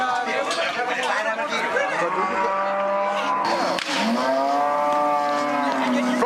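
A herd of cattle being sorted by cowboys on horseback lows repeatedly, with long moos rising over a busy outdoor background, and a voice narrates over them.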